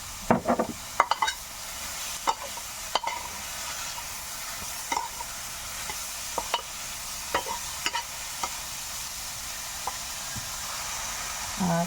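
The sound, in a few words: stir-frying food sizzling after adding oyster sauce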